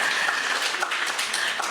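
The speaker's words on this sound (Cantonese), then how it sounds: "我再一次俾掌聲" A forum audience gives a dense, even burst of applause, with many hands clapping steadily throughout and no voices.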